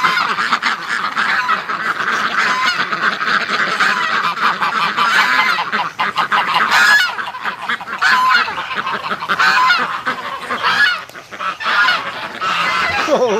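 Geese and ducks honk loudly and continuously at close range, a dense overlapping flock of raucous calls filling the whole stretch without pause.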